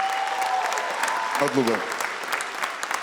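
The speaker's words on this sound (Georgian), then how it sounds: "ერთი აპლოდისმენტები" Audience applause after a Georgian quiz league quarterfinal game, a short steady patter of clapping with a voice speaking over it midway.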